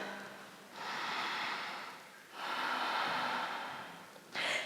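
Deep breathing during a yoga flow: two long, steady breaths, each a broad airy whoosh lasting over a second, with a brief sharp intake at the end, close and clear with no talking.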